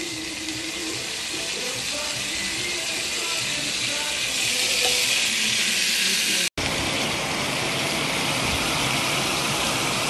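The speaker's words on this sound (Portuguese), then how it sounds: "eu vou colocar o bacalhau, que já deu uma marinadinha, né?" Marinated salt cod sizzles in a frying pan in a home kitchen, producing a steady, loud, continuous frying hiss for about ten seconds, broken only by one brief dropout.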